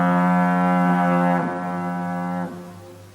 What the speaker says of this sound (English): It's just the sound of the foghorn in the background because the fog has crept into the house and you hear it in the background.